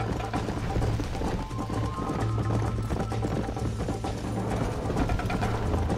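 Hooves pound in a fast, steady gallop as a horse runs in the video game Red Dead Redemption, a dense rhythmic clatter with game sound mixed in throughout.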